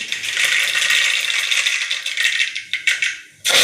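Mustard seeds splutter in hot oil for toor dal sambar: a dense, continuous crackling and popping, close and loud, thinning into scattered pops before a final burst.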